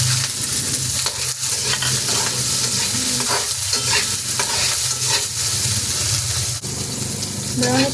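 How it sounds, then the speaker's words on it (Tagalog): Onions fry loudly in a hot pan with a dense, continuous sizzle and crackling splatter, broken by occasional stirring scrapes, close and with no talking. "Ilagay natin yung sibuyas. Bakit tumatalsik?"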